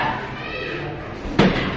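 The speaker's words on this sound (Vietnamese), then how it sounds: "cái này là cửa chính mở ra đây" A house's main door being opened, heard as a single sharp thump near the end after low room noise, close and fairly loud.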